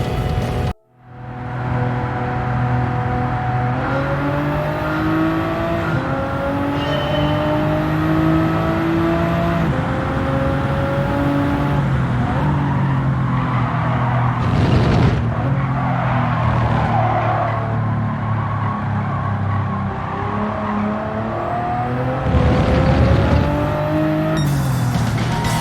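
Race car engine in the Gran Turismo 7 video game during an International A licence test, droning loud and steady throughout with shifting revs and gear changes, brief tire squeal and a harsher burst near the end, no talk.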